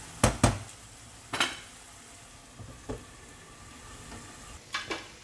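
Egg-dipped eggplant with ground pork (tortang talong) being fried in a pan, with a few sharp clinks and scraping stirs of a utensil over a faint background sizzle.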